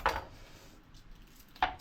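A kitchen knife chopping an onion on a board, two sharp isolated knocks about a second and a half apart with quiet between.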